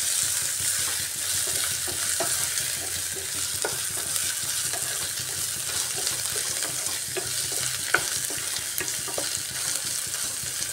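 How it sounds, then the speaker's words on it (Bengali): Onion with ginger and garlic paste frying in a pan makes a continuous, even sizzle, with occasional soft clicks of stirring over it. "আদা রসুনটা দিয়েও একটু সময় ভেজে নিতে হবে, যাতে আদা রসুনের কাঁচা গন্ধ না থাকে এর মধ্যে"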